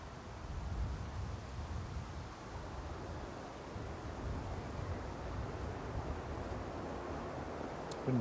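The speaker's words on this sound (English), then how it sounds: "Wind's picked up a bit since earlier" Wind blows at Manchester Airport, a faint, steady broadband rush with slight gusts, heard alone without voices.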